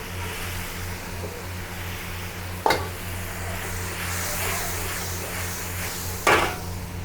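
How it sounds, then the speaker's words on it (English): Ginger garlic paste being stirred in a hot cooking pan for a crab curry, a steady close frying hiss with low hum underneath and two brief scraping knocks of the spoon against the pan. "Then you have to stir."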